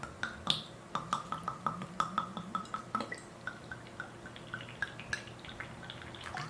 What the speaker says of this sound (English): water it thoroughly.